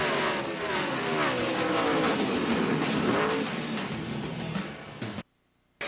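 NASCAR race cars at Phoenix roaring past under caution, several engines rising and falling in pitch as they go by, loud and close, fading out toward the end before a sudden cut to silence.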